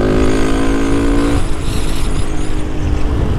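A Honda Titan motorcycle engine runs on ethanol, a loud, close, buzzing drone that rises steadily, then roughens into a fluttering, uneven roar as it pulls away.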